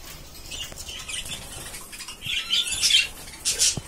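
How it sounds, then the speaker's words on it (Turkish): Pet parrots, including blue, yellow and white birds, flutter and chirp in their cage, with quick wing flaps, rustling and bright high squawks and tweets, fairly close and growing busier toward the end. "Burada mavi kuşlarımız var."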